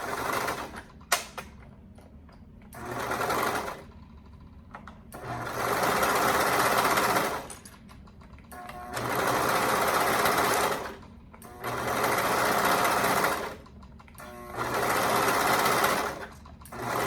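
A sewing machine stitches a hoodie seam at a half-inch allowance in four long, steady bursts separated by short pauses, close and alone with no talk.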